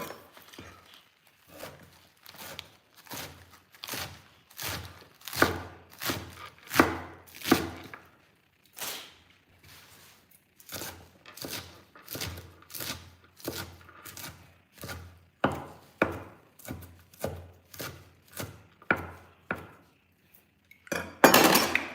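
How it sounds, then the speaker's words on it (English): Lettuce for a salad is chopped on a board in a home kitchen with a steady series of knife thuds, some clustered and some spaced apart, moderately loud, with no talking. "Let me chop up my lettuce"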